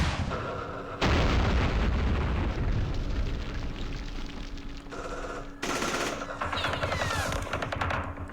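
Anti-aircraft guns firing in the Vietnam war game Campaign Series Vietnam at Dien Bien Phu, a loud sustained roar of rapid bursts and booming artillery fire that cuts off abruptly, then resumes with more crackling volleys.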